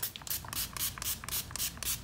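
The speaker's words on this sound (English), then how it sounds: "I'm gonna go ahead and spray my glass" Quick bursts of a spray bottle spraying alcohol onto a wine glass, about eight short hissing squirts in a steady rhythm, close by with a faint background hum.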